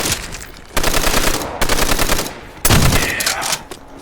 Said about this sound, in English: Browning. Oh, this is a gun you dream of